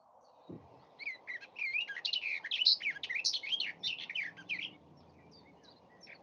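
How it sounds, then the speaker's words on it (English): A garden warbler sings a rapid, bubbling phrase of varied notes, fairly close and clear, with a faint thin chiffchaff call trailing afterward over quiet background. "on the garden warbler song, you could also hear a little bit of chiff chaff there"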